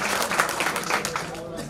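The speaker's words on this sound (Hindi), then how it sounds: "तालियां बजाइए भाई।" An audience at a ceremony claps, brisk overlapping hand claps that hold steady through a short burst, fairly close, with a voice faintly mixed in.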